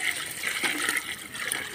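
Water being poured into a pot while khichdi cooks during a village puja meal, a brief close gushing pour with splashy hiss, steady over under two seconds.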